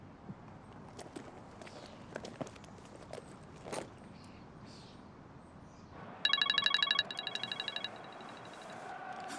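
A phone starts ringing with a bright electronic trill in two bursts, rising clearly above quiet room noise and footsteps after a stretch of soft shuffling.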